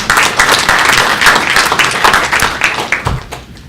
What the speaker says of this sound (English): let's just give David a little round of applause and a welcome